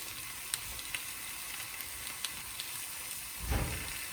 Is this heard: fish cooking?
yes